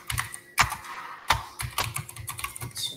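Code typed on a computer keyboard during a web programming lesson, a close run of irregular key clicks with a few heavier thumps, like spacebar or enter strikes, with no talking.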